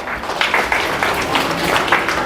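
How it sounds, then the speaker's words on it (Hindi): Clapping from a polytechnic student audience at a start-up motivational session, a steady, moderate patter of hands lasting a couple of seconds with no voices standing out. "एक बार जोरदार तालियां इनके लिए।"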